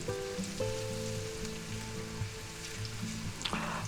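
Peppers and onions frying in a pan, a steady near sizzle with crackling texture throughout while a separate musical or tonal hum plays underneath, no voices.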